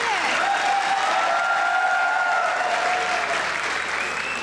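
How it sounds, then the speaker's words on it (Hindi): Studio audience on a Pakistani comedy talk show applauding in a full, steady burst, with a voice speaking faintly over the clapping. "जिनको लगता है मदिया की अच्छी, वो तालियां बजाएं।"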